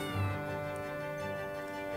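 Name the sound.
cat meowing in video game Tales of Arise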